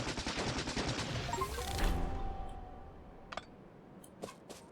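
Rapid in-game gunfire from Factorio rattles in a dense, loud burst for about two seconds, then thins into a few sharp, isolated shots spaced apart against quieter background.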